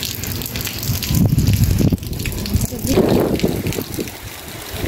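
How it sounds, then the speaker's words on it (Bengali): Strong gusts of Cyclone Remal in Rangpur roar and buffet the microphone in loud surges, with rain nearby. "এই হলো ঘূর্ণিঝড়ের অবস্থা"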